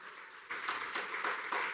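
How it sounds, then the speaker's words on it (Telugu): A church congregation claps together, faint rhythmic hand claps starting after a brief pause and continuing in a steady beat. "చప్పట్లు కొడదాము వానికి"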